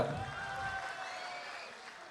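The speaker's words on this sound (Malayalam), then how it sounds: "ഖാദറിന് നല്ല ഒരു കയ്യടി ഫ്രീ ആയിട്ട് കൊടുക്കുക" Audience applause at a Malayalam comedy stage show, a steady dense wash of clapping held at an even level for about two seconds, with no speech over it.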